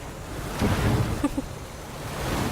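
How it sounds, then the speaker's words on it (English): Ocean waves in the video game The Witcher 3 wash in a steady, soft broadband rush, with a slight swell partway through and no talking. "The waves."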